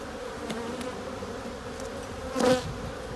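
Honeybees swarm around an opened spring hive with large brood frames, buzzing steadily up close as individual insects sweep past, one passing especially loud and near the microphone.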